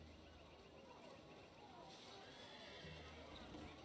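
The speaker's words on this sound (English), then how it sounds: "And I just heard a horse." In a video game, a horse neighs while hooves clip-clop, faint and distant under a low wash of ambient sound and quiet speech.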